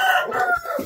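A rooster crows in one brief, strained call, with harmonic tones that sweep down at the end, close and fairly loud.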